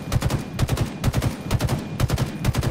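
Rapid automatic gunfire from Halo Infinite ranked multiplayer comes in repeated bursts, each a tight run of sharp shots with short gaps between, loud and continuous throughout.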